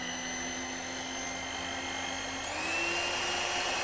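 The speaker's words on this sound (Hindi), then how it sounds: "इट्स लाइक ए ड्रिल, ये ड्रिल की तरह आवाज़ कर रहा है।" Electric hand mixer with dough hooks, switched on and running with a steady, high drill-like whine that rises slightly in pitch partway through, close and continuous with no talking.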